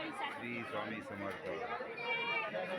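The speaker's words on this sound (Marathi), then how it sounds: "ही बघा किती गर्दी आहे आता।" Steady babble of a packed crowd inside the Akkalkot temple, overlapping voices murmuring continuously at close range.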